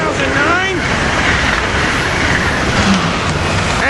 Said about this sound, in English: We got the Acela train 2170 going north now.